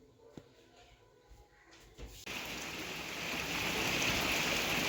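Heavy rain pours down during a storm with hail, rising suddenly after a quiet start into a loud, dense, steady hiss that continues without a break.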